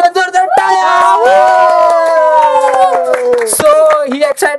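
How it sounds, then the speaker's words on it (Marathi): A group claps and cheers in celebration of a milestone, with loud close applause, whoops and a sustained sung or shouted vocal tone layered over the clapping, ending in scattered claps. "सो त्यासाठी जोरदार टाळ्या"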